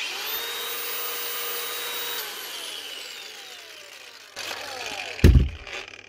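A repaired 2014 Makita 4.5-inch cordless brushless angle grinder spinning down from a high steady whine, then a short burst of clattering and a loud knock near the end, with no talking.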